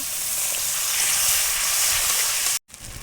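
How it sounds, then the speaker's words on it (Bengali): Loud, steady hiss and sizzle of spices with salt, turmeric, chili and a splash of water cooking in a hot pan for rohu fish curry, close up, cutting off abruptly near the end before resuming more quietly. "একটু জল দিয়ে মশলাটা কষিয়ে নেব"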